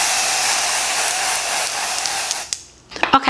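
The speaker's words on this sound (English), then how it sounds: "So I'm just gonna spray it." A loud, steady aerosol spray hisses continuously for a couple of seconds onto a wig, then cuts off, followed by quiet handling clicks and a faint voice.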